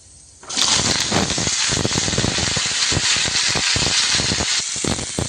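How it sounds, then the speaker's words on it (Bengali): Tempering spices hit hot oil in a wok and burst into a loud, continuous sizzle with dense crackling and spitting that holds steady after a sudden onset. "তেলটা হয়ে গেছে, ফোড়নটা দিয়ে দিই। এই ফোড়ন এত ফাটে না, এত ভয় লাগে আমার।"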